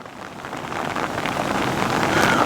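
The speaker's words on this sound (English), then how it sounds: "rain, rain and more rain is definitely order of the day" Steady rain falling on a park lake and an umbrella overhead, a dense continuous hiss and patter with some wind buffeting, close and unbroken.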